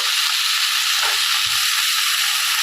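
Spinach stirred and frying in a pan for dal, a steady broadband sizzle holding throughout with a couple of soft low knocks from stirring partway through.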